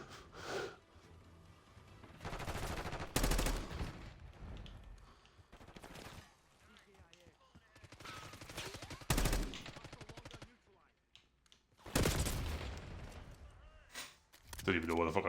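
Gunfire crackles in Call of Duty Black Ops 6 multiplayer, with several loud bursts of automatic fire and sharp single shots spread across the stretch, separated by quieter gaps where in-game sounds and breathing come through.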